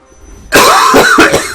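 Loud coughing from a creature in the Monster Hunter Stories 2 game, a burst of several harsh coughs after a quiet start, standing alone with no talk over it.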